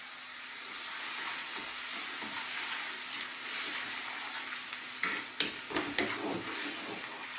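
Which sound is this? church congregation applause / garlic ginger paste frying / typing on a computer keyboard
garlic ginger paste frying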